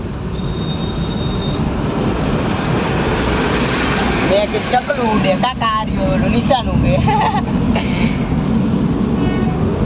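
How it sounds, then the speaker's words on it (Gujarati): A train rolls past in Rajkot with a loud, continuous rumble and rushing noise throughout, while people talk over it. "તો જો રેલગાડી જાય"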